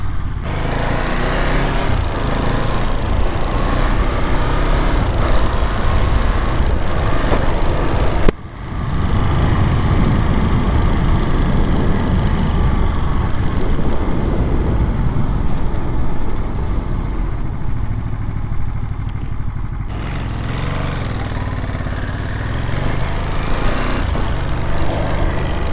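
Ducati Monster 937 motorcycle ridden around a city block, a steady engine drone with wind rush that continues throughout, shifting briefly in tone partway through.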